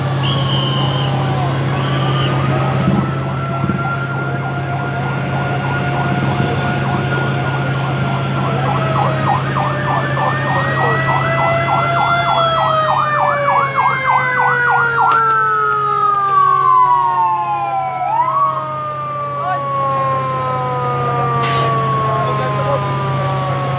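A fire truck siren wails continuously at the scene of a fire at NCCC Mall in Davao City, its rising and falling pitch sweeping loudly over a low engine drone, with voices underneath.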